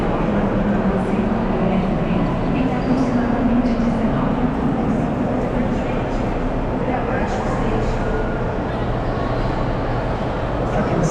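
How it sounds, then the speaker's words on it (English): A train rumbles at Rio de Janeiro's central station, a dense continuous roar of rolling wagons and machinery filling the busy platform, with crowd murmur underneath throughout. "Train station."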